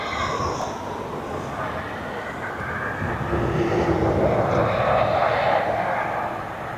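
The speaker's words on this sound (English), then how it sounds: "Oh, possible Spitfire over the aeroport doing circles around Aston-on-Trent." A Spitfire aircraft circles over East Midlands Airport near Aston-on-Trent, its propeller engine droning at a distance and swelling gradually louder amid outdoor wind.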